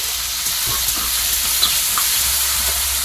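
Tomato and green chili fry in hot oil in a pan, a steady loud hiss and sizzle with faint soft stirring beneath.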